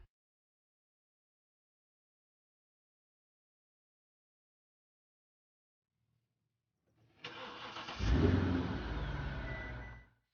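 A Mercedes CL550 W216 with newly fitted high-flow air filters cranks and fires up after several seconds of silence, settling into a loud, steady idle close by with no talk.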